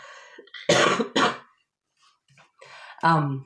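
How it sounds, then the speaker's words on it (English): Two loud, harsh coughs close by, then a brief pause and a throat-clearing rasp, with a dog's low sound in between. "I'm about to cough."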